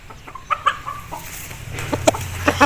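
An aseel rooster clucking up close, a few short, separate clucks with a higher cry near the start and more clucking bursts later, heard alone without talk.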